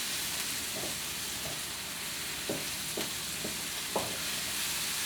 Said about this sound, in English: I don't know if you can hear that pot sizzling or not